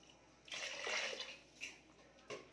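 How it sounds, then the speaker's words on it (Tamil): Water splashes and pours into a cooking pot in a short burst, followed by a couple of quieter splashes. "இன்னும் ரெண்டு டம்ளர் தண்ணி ஊற்றப்படுறோம்"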